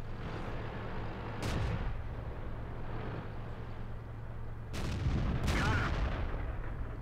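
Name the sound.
Panther tank gun firing at T1 Heavy in World of Tanks video game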